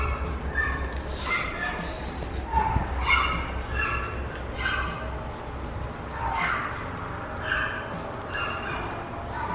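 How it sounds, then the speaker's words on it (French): Several dogs bark and yip repeatedly at a distance, in scattered bursts over a low steady background hum. "Les chiens des voisins me fatiguent, je n'en peux plus."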